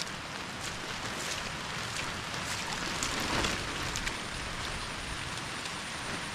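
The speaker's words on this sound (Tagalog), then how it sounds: "lakas po uli ng ulan" Heavy rain pours steadily over flooded rice paddies, a dense, constant hiss of drops on surfaces with no break throughout.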